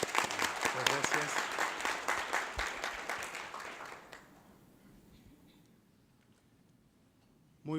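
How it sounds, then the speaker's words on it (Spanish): A conference audience applauds loudly for about four seconds, dense clapping that then dies away to a quiet room before a voice begins speaking. "Les pedimos un aplauso para el doctor Andruet, por favor."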